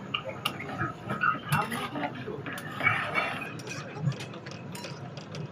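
Ladle clattering and scraping against a pot while stirring pangas fish curry with turmeric, salt and water, irregular metallic knocks and scrapes close by, with background noise and no clear speech.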